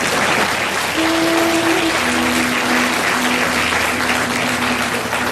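An audience at a Tamil speech event claps in a dense, steady burst of applause throughout, with a brief tonal whistle or hum over the crowd.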